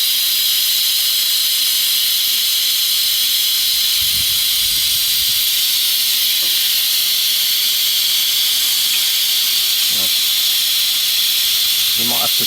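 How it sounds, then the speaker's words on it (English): Steam valve on an LMS Black Five locomotive injector releasing a steady loud hiss that runs throughout, with a few faint knocks and brief sounds underneath. "Then turn the steam valve on slowly."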